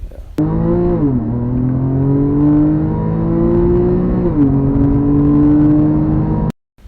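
A 2010 Porsche 911 997.2 Carrera S accelerating on track, its engine note a loud, steady rising drone that pauses briefly at an upshift before climbing again, close and continuous with no speech.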